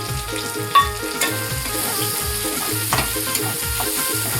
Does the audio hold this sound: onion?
yes